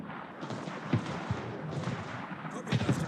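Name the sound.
battleship guns firing shells in World of Warships video game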